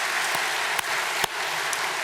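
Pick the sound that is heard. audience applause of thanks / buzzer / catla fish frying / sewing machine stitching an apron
audience applause of thanks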